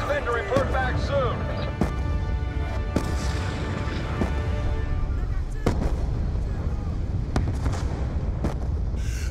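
Mortar fire in a jungle battle in Call of Duty: Black Ops II, repeated sharp thuds and booms over a steady rumbling background, with shouting voices mixed in.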